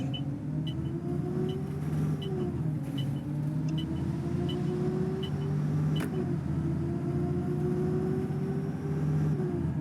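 A FirstBus Alexander Dennis Enviro400 (C400R) bus in the OMSI 2 simulator drives steadily with a continuous engine drone and gear whine that shifts in pitch as it changes gear, close and unbroken.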